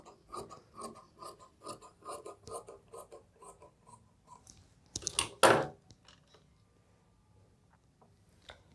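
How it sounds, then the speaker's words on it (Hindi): Scissors cutting through suit fabric up close, a run of rhythmic crisp snips and rasps followed by a louder rustle of cloth being handled, then quieter scattered scraping. "अब इसी साइज का एक और कपड़ा काटेंगे।"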